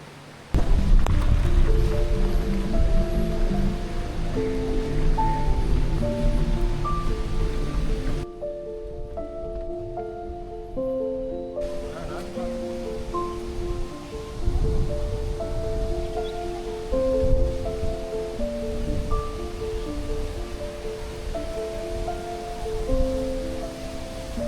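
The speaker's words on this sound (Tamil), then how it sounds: "நம்ம இப்ப பார்க்க போற அருவிக்குழி வியூ பாயிண்ட்ல நீர்வீழ்ச்சியா கொட்டுதுங்க" Water pours continuously in a dense roar, the Anchuruli tunnel waterfall crashing at the Aruvikuzhi view point in Idukki, Kerala, loud throughout with a brief quieter stretch in the middle.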